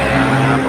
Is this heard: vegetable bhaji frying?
no